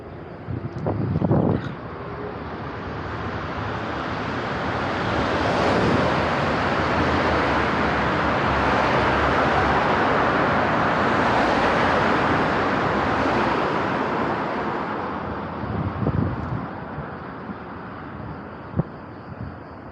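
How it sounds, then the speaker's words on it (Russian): Car traffic streams through a road tunnel, a broad echoing roar that swells as vehicles pass and then fades back toward quiet near the end. "подожду, пока машины поедут, чтобы было шумно."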